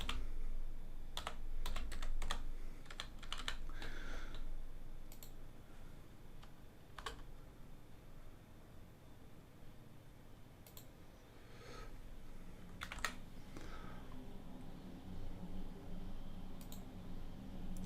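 Someone types on a computer keyboard, producing scattered quiet key clicks in small irregular bursts over a faint steady background hiss, with no voices.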